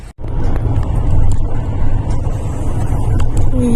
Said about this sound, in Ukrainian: Їдемо додому. Ось через Дніпро проїжджаємо назад.